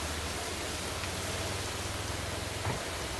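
Water sprays steadily onto dry garden beds planted with melons, squashes and cucumbers, a constant close hiss with no breaks.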